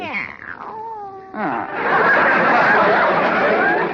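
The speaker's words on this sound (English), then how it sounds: "Oh, it's the cat." A cat meows in a radio comedy drama, a clear rising-and-falling cry up close, then broad noisy sound like laughter or chatter takes over and stays loud to the end.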